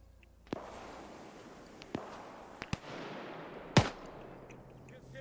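Gunfire in the video game Ghost Recon Advanced Warfighter 2: several sharp gunshots spaced a second or so apart, the last one louder and closer with a brief echoing tail, over a low ambient background.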